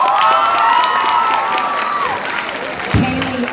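An audience at a speech and debate awards event applauds with a continuous patter of clapping, mixed with cheering and a rising then falling whoop.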